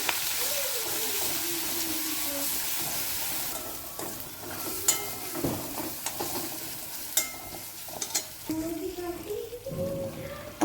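Ground chili, garlic, ginger, coriander and curry-leaf paste with asafoetida dropped into hot oil for Mumbai-style vada pav, sizzling and frying steadily close by with stirring scrapes and a voice talking over it.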